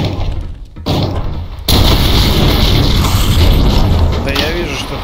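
Gunfire in the video game Project Brutality: a loud, booming shot crashes in at once and leaves a heavy, sustained rumble, with people talking over it.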